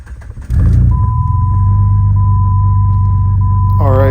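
A Jeep WJ fires up and settles into a loud, steady idle rumble close by, with a constant high electronic tone running over it and a short chime near the end.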